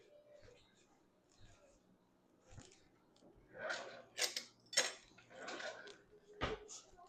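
Metal spoon clinking against dishes while serving sauce over rice and lima beans at a home dinner, several sharp, bright clinks spaced irregularly, close and quiet, with soft talk and kitchen handling around them.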